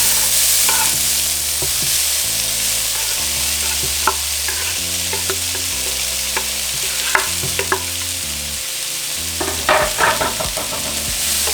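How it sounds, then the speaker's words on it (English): Diced tomato and onion sizzle steadily in a hot skillet as the base for beef nachos. A spoon stirs them with intermittent scrapes and taps, and soft background music plays throughout. "once our skillet is hot enough, we're going to add our tomato and onion."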